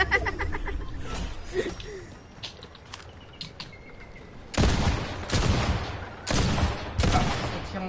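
Video game gunfire rattles in bursts, with loud rapid volleys in the second half over a busy background, while players talk and laugh faintly.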